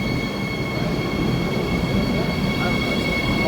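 A train rumbles steadily nearby, a constant loud roar with a thin high tone running through it, and no break in the noise.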